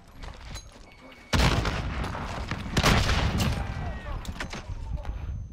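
Grenade explosions in Call of Duty Warzone hit with a sudden loud boom, then more blasts and scattered gunfire follow amid close, busy battle noise, with voices talking over the action.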